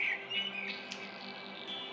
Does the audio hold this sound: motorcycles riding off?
no